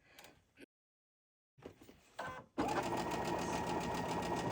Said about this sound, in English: And I'm chain stitching that one also.